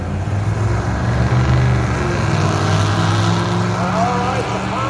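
Drag race car engine roaring steadily at the No Name Nationals, loud sustained rumble with a rising tone, mixed with crowd and track noise.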